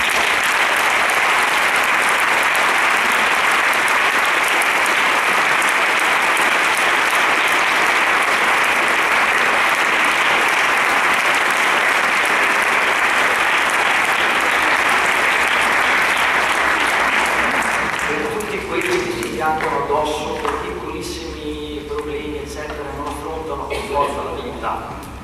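Sustained, loud audience applause fills a church hall for about eighteen seconds, then thins out as the clapping fades and voices begin talking.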